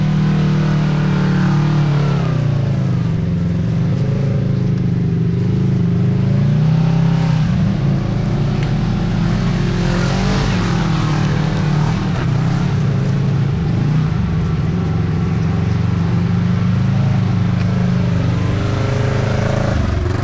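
A Kawasaki Teryx5 H2 UTV crawls along a trail in four-low and mid power mode, its engine a steady, close, low-pitched drone with gentle swells and no talk over it.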